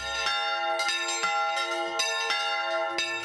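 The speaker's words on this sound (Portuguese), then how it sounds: "as baladas do sino" Church bells ring repeatedly in a steady, overlapping peal, bright and resonant, with strikes roughly every half second and no voices.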